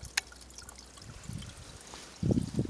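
Water released into a newly dug, compacted drainage pit trickles and runs quietly, a soft steady flow with a couple of louder gurgling splashes near the end.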